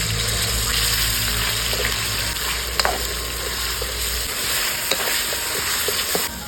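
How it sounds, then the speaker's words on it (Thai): Pork belly stir-fried with pounded spice paste in vegetable oil in a pan, giving a steady sizzle and hiss with occasional scraping stirs, close and fairly loud, with no talk. "เครื่องที่เขาตำไว้ใส่ลงไปคั่วพร้อมกันนะฮะ"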